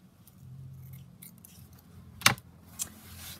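Scissors trimming a piece of mesh fabric, a quiet single crisp snip followed by a fainter second cut, close and otherwise near silent.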